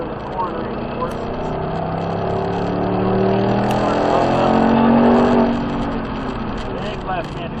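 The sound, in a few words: Ford Mustang cornering on track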